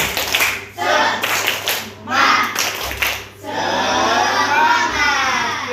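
Children in a classroom clap a spirit clap, with several sharp bursts of group clapping, short pauses between them and a final sustained flurry, mixed with children's voices calling out.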